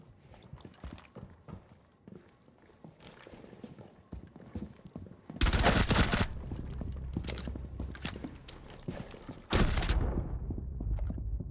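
Shotgun blasts and heavy gunfire from a first-person shooter match, starting as scattered thuds and clicks, then breaking into two loud, dense bursts of firing, with no talking.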